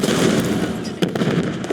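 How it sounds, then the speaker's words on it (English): A video-game stun grenade goes off as a loud, close blast with a sharp cracking burst about midway, set in a dense, noisy gunfight roar. "Stun grenade out."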